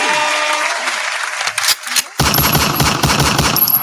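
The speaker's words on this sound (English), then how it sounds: "Can we have some claps, Mr. Soundman?" A burst of applause sound effect cuts in after a short stretch of talk, a loud, dense crackle of many clapping hands that runs steadily to the end.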